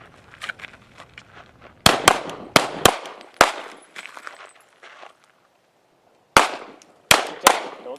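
Pistol gunshots at a desert shooting training range, a few sharp cracks spaced apart, then a close cluster of loud shots, a quiet pause, and three more sharp reports near the end.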